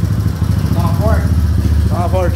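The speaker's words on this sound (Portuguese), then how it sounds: "Dá uma volta na moto aí." Modified 2009 Honda Fan 125 motorcycle with a 4 mm oversized piston, its engine running with a loud, steady chugging putter close by while people talk over it.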